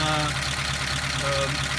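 A 1953 Pontiac Chieftain engine idles roughly and misfires, a loud, close, uneven rumble with irregular low pulses running continuously through the short stretch.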